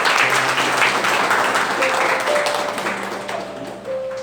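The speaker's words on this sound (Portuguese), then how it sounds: "Vamos aplaudir a palavra do Senhor." A church congregation on a retreat breaks into loud, close applause, a thick patter of many hands that thins a little near the end while low voices and a soft sustained tone sit underneath.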